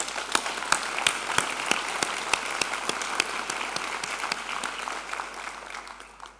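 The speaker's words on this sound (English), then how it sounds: "they do deserve a thunderous applause" Sustained applause from a large audience fills a university graduation ceremony hall at Rhodes University, with dense, steady clapping and a few sharper individual claps standing out before it slowly thins near the end.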